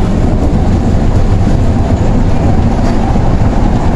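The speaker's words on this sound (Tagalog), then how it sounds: "Sakay na tayo ng LRT." Steady, loud rumble of a light rail train in motion heard from inside a car, a constant roar with faint rattling and no speech.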